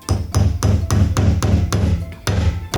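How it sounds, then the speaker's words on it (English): A hammer drives a decent-sized nail through a cork, giving about eight sharp, evenly spaced strikes that ring out close and loud with no talking. "a decent sized nail that you're gonna hammer through the cork like this"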